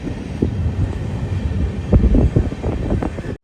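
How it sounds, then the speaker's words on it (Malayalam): Jhelum Express sleeper train pulling into Kopargaon station, a loud close rumble of wheels and carriages with irregular clanks and wind buffeting the microphone, cutting off abruptly at the end. "ട്രെയിൻ അങ്ങനെ കൊപ്പർഗാവ് സ്റ്റേഷനിലേക്ക് ഇതാ എത്തിക്കൊണ്ടിരിക്കുകയാണ്"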